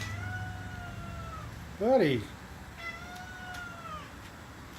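A cat in a converted shuttle bus RV gives one clear, rising-and-falling meow, close to the microphone, while someone speaks briefly nearby over a quiet background hum.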